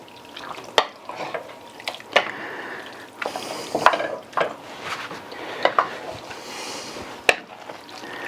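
A spoon scrapes and knocks around a pot of truck stop chili, with sharp metallic clinks at irregular intervals over a soft, wet simmering sizzle, close and fairly loud.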